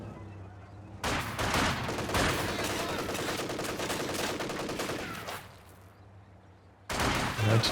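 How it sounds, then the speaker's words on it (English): Dense rapid gunfire and explosions from a Company of Heroes 2 multiplayer battle, a loud sustained burst of shots and impacts that eases off for a moment and then kicks back in at the end. "Noobstler coming in though with all guns blazing, everything at once."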